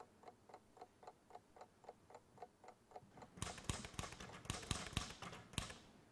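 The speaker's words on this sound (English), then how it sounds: "But if I wind it up and you listen, tick-tock, tick-tock, tick-tock, tick-tock, tick-tock." A wind-up clock ticks softly in an even, regular rhythm of about two ticks a second. Partway through, louder and more irregular clicking and clattering joins in and takes over.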